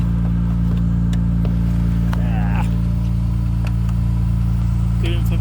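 The 3.0 VTEC engine of a 2002 Honda Accord coupe with 125k miles idles steadily, close by with the hood open, giving a constant low hum, while a voice speaks briefly in the background.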